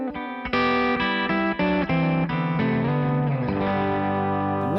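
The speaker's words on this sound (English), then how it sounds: "I have an 8th note delay that I've modeled after, I kind of dialed it in myself to try to sound somewhat like an STD 3000" An electric guitar plays a quick run of bright notes through an eighth-note delay dialed in to resemble an STD 3000, with light modulation. The repeats echo each note and trail off into a shimmering tail.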